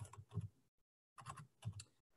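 Typing on a computer keyboard while entering property information in an MLS search form, heard as two quick bursts of close clicking keystrokes separated by a short silence.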